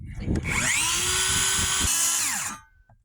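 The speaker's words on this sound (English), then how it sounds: "It's just a power tool." A power tool whines loudly and steadily for about two seconds, then spins down and stops, leaving a quiet pause.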